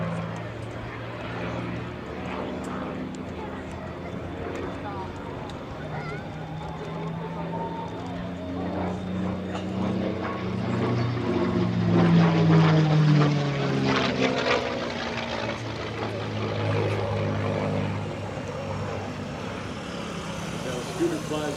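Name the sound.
World War II propeller airplane flying past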